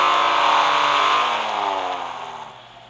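Loud revving from a 2003 Porsche 911 GT2 in Real Racing 3, a strong engine howl that peaks early, then drops in pitch and gradually fades, with no other sounds or voices.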